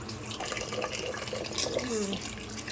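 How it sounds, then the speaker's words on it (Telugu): Ragi grains are swished and rinsed in water, a steady close splashing and sloshing with running-water texture throughout. "మంచిగా కలిపి ఏమైనా పొట్టుంటే వాష్ చేసుకోవాలి."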